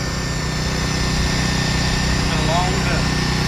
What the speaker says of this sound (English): This is a automated heat welder, so it ties these seams together.